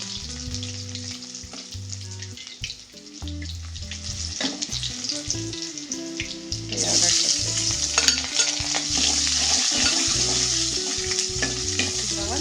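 Onions fry in a pan with a continuous crackling sizzle and stirring. The sizzle grows louder and brighter halfway through, under steady background music.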